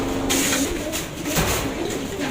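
Pigeons coo in a dense, noisy setting, soft throaty calls blending with a constant broadband background hiss across the short stretch.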